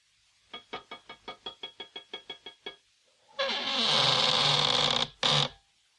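A secret door behind a mirror in a haunted castle opens in a radio drama, with a rapid run of about a dozen ratcheting clicks followed by a loud, sustained grinding buzz and a short final burst.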